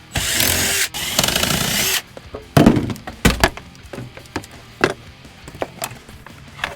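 Power drill zipping screws out of a racecar dashboard: a loud steady whir for about two seconds, then sharp clunks, knocks and rattles of parts being handled nearby.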